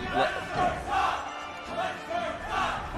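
A crowd roars and cheers in rolling waves at a Super Smash Bros. Melee match, swelling and fading several times like a distant stadium audience, no clear voices standing out.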